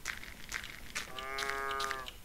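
A cow in the Minetest video game gives one drawn-out moo midway, clear against faint clicking game sounds, with no talking.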